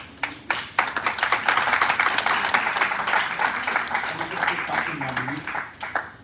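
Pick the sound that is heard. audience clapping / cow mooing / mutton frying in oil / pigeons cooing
audience clapping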